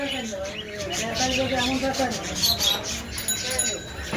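Many small birds chirp and tweet busily at close range in a bird shop in Bangladesh, while a person talks over them.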